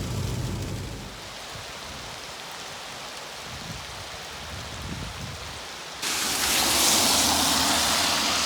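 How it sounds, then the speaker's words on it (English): Heavy rain pours down in a constant hiss, swelling louder and brighter partway through as if the downpour intensifies or comes closer. "It's pouring down rain."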